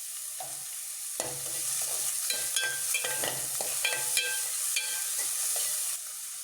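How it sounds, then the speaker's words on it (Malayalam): Chopped onion sautéing with salt in a pan for sardine fish curry, a steady sizzle and hiss broken by scraping stirring strokes, close and continuous throughout. "ഇതൊന്ന് വേഗം വഴന്ന് കിട്ടാനായിട്ട് ഒരു 1/2 ടീസ്പൂൺ ഉപ്പ് ചേർത്ത് കൊടുക്കാം."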